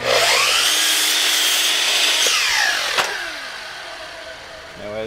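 A saw cuts through a wooden piece in one continuous stroke-driven pass lasting several seconds, loud and close, with a sharp crack near the end before the noise tails off.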